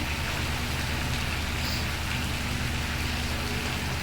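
Mixed vegetables with fennel seeds and cumin sizzle steadily in a hot pan, a constant loud crackling hiss that carries on without pause and without talk.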